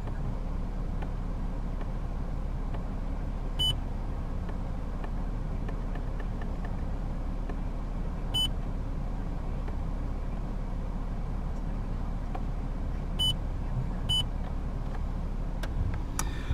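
A 2014 Toyota iQ with the 1.0 VVT-i engine idling steadily, a low even hum heard from nearby, with a few faint electronic beeps.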